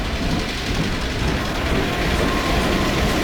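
A train in Half-Life 2 rumbles past, loud and close, as a dense continuous roar with faint clattering wheels, and no voices.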